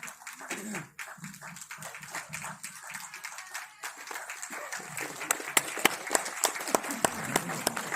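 Applause at a talent-felicitation award ceremony at an institute as a cash award is presented; scattered claps build into sharper, louder individual hand claps toward the end, with a faint voice early on.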